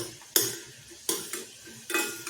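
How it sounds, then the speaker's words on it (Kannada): Fried jackfruit seed pieces tipped into a pan of sugar syrup, giving three sharp clattering scrapes of a metal utensil against the pan at a steady pace, each trailing off into quieter stirring. "ಇದಿಷ್ಟನ್ನು ಇವಾಗ ನಾನು ಮೊದಲೇ ಮಾಡಿಟ್ಕೊಂಡಿರೋ ಪಾಕಕ್ಕೆ ಹಾಕ್ಕೊಳ್ತಾ ಇದ್ದೀನಿ"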